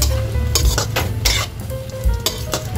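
Shrimp stirred in a hot pan, a utensil scraping and clinking against the metal in bursts over a steady sizzle of frying.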